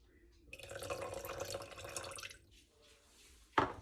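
Half a lemon squeezed by hand into a blender for homemade mayonnaise, a soft wet trickling and dripping of juice for about two seconds, fairly quiet, followed by a short sharp knock near the end.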